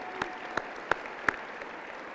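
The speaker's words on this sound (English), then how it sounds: "Give yourselves a round of welcome of applause" A graduation audience at Worcester Technical High School claps, heard as a few sharp, sparse claps standing out from faint, steady crowd applause at a distance.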